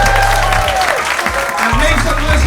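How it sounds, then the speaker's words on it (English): An audience at a live podcast show applauds, a dense steady wash of clapping over background music, loud and close, with some speech mixed in. "Give a round of applause to everyone that you've seen tonight"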